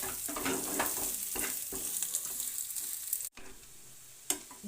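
Thinly sliced onions sizzle softly in a pan, a fairly quiet continuous frying hiss with occasional stirring scrapes and one brief dropout near the end.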